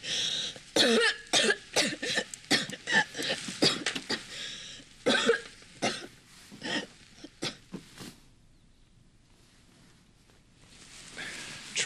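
A sick nun in a convent coughs repeatedly in a drama about Saint Thérèse of the Child Jesus, harsh close coughs in clustered bursts with throat clearing, then quiet breathing near the end.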